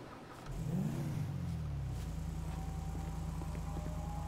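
A parked sports car being stolen in GTA 5 starts up and revs hard, a rising engine sweep swelling near and loud before settling into a steady low idle-like drone, with no talking.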